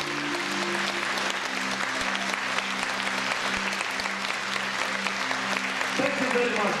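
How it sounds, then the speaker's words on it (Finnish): Sustained applause from a large audience at a church gathering in an arena in Vantaa, Finland, dense and steady for several seconds, with voices audible beneath the clapping. "Clap to the Lord somebody."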